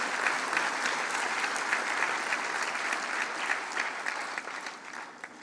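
An audience at the opening ceremony of a university association's general assembly claps warmly and steadily, a dense, sustained wash of hand claps filling the hall before tapering slightly at the end.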